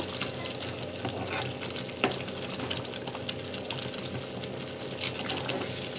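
Kesari batter is stirred in a pan, giving a continuous wet scraping and bubbling texture with one sharper knock of the spoon partway through, moderately close and with no talk.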